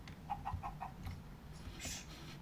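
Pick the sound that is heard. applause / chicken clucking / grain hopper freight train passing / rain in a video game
chicken clucking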